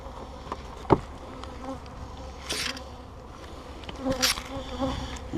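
Honey bees drone steadily during a beehive inspection, a close, continuous buzz with a few knocks and thumps of hive equipment, and no talk.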